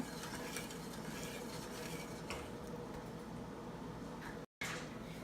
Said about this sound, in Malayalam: ഇനി നമുക്ക് ഇളക്കിക്കൊണ്ട് തന്നെ ഇരിക്കണം